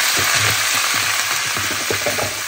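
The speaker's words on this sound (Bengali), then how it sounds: "চিংড়ি মাছটা এখন আমি কি করব, আমি তেলের ভিতর দিয়ে দিই" Shrimp dropped into hot oil at a home Eid party, a loud close sizzle with rapid crackling and spitting bursts, continuous and without voices.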